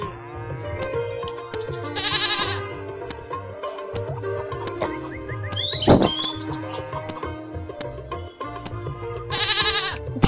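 Sheep bleat in the Meena Raju video game: repeated wavering bleats over a busy layer of chirpy game sounds and short musical tones, with one loud bleat near the middle.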